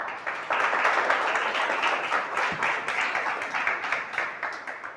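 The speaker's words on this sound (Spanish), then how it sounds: "Dele un aplauso al Señor." A Spanish-speaking church congregation claps during a worship service, a full, lively burst of applause that starts abruptly and keeps going steadily with individual claps audible throughout.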